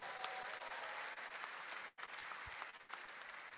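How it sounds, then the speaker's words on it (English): Audience applause for a youth choir at an induction ceremony for newly qualified medical and dental practitioners, a steady dense clapping that drops out briefly midway, then resumes at full strength. "Can we give them a round of applause?"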